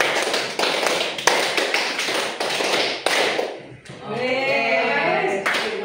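A rapid run of hand claps in an even rhythm is heard close by during a classroom counting clap game, then stops as a voice speaks, with one more clap near the end.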